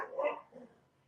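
A dog lets out a short, faint bark or yip, one soft burst followed by a weaker second, quiet and close in a still room.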